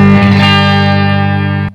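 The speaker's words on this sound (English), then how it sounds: "This is the clean sound." A tube guitar amp on its clean channel rings out one sustained, harmonically rich chord that holds steady and then cuts off sharply, with no voices.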